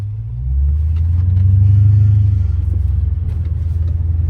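Deep, loud engine rumble of a Dodge Scat Pack car while driving, swelling as it pulls then settling into a steady throaty drone, with no talk.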